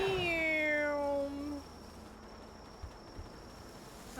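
A cat in the Palworld video game gives a drawn-out meow at nighttime, with faint cricket-like night ambience afterward.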